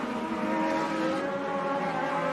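Race car engines drone steadily on the dirt track at Benton County Speedway, a loud, sustained, tonal roar with no clear passes or breaks.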